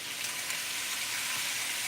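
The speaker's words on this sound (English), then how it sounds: "Ooh yeah, that sizzle's already going." Ground beef, 80/20, sizzles in a pan with a little olive or avocado oil, a steady crackling hiss at moderate level with no talking.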